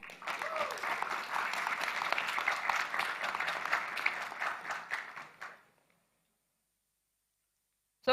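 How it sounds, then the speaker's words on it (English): Audience at a startup pitch event gives investors a steady, fairly distant round of applause lasting about five seconds, then stopping abruptly into silence. "please give a huge round of applause for our investors"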